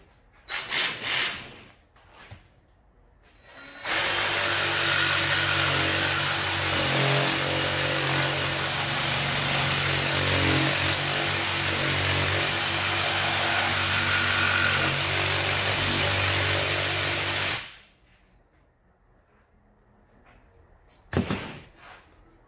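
Jigsaw cutting through a 1x4 wooden board, a loud continuous buzzing rasp lasting about fourteen seconds at close range, bracketed by brief knocks and handling noises.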